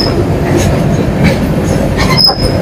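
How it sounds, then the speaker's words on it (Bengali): The Puri-Howrah Shatabdi Express runs toward Medinipur, its wheels rumbling loud and steady on the rails with occasional squeals, heard from close by on board the train. "মেদিনীপুরের দিকে ট্রেনটা যাচ্ছে"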